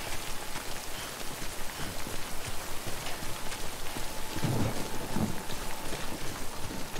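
Rain and thunder fill a stormy scene in the video game Death Stranding: a steady, close downpour hisses throughout while low rumbles of thunder roll underneath, with no voices.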